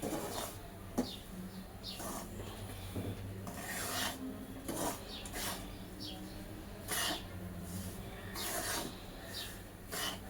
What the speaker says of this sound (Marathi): रवा मीडियम गॅसवरती ढवळत राहायचं आहे व्यवस्थित, करपता कामा नये.